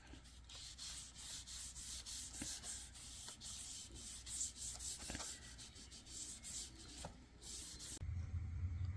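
Red chestnut stain is rubbed onto a wooden mace made from repurposed scrap, giving a very faint, continuous rhythm of soft rubbing strokes close up, with no talk.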